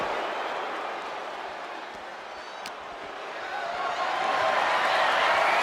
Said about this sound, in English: And Rhea is revving this crowd up.